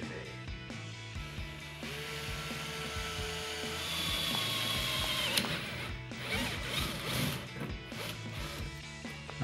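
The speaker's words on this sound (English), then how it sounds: "Now we're going to use our 3/16 drill bit to drill the two holes." A drill with a 3/16 bit bores holes through the metal of a 2005-2014 Ford Mustang hood, a whining motor rising in pitch mid-clip amid rattles and scraping, loud and close with no talk.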